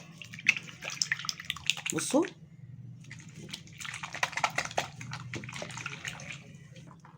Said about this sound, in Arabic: دي ميه عاديه خالص من الحنفيه اهي، واخد صابونه وهنرغي مع بعض.